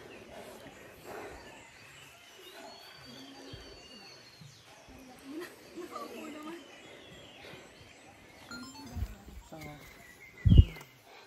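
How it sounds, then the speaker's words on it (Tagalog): Songbirds chirp and a dove coos among the trees along a mountain trail on Mt. Sembrano, the calls scattered and fairly faint beneath people talking, with a sharp nearby knock near the end. "Grabe yung ang ganda ng tunog dito, puro ibon."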